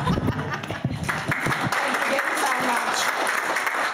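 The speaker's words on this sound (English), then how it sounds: "Now you can clap." Audience applause at a community launch event fills the space after a possum drum performance, broad and steady clapping running throughout, with a voice speaking over the start.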